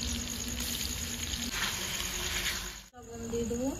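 Ginger-garlic paste fries in a pan with a steady, fairly quiet sizzle, then a brief drop and a fresh burst of crackling near the end.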